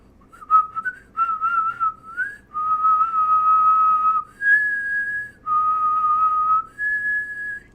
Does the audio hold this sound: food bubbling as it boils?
no